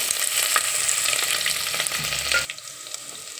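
Ginger garlic paste spatters in hot oil as tempering for a chicken gravy, a loud hissing sizzle with stirring that drops abruptly to a quieter bubble near the end, no speech.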